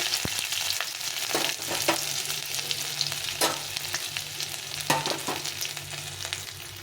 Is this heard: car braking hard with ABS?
no